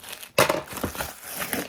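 A cardboard box for a 2025 S&P Mystery Musikal toy is torn open by hand, giving a sharp rip followed by several rough crinkling and crunching tears, close up and fairly quiet, with no voices.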